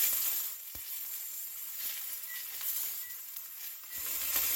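Veal shanks searing in a pan over high heat give a steady, close sizzling hiss, with one sharp click near the start and no talking.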